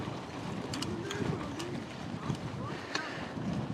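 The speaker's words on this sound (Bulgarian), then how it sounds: "проблемът е, че много ни духа на срещен вятър" Steady headwind buffeting the microphone while cycling on bicycles, a constant rushing roar with low rumbling gusts throughout.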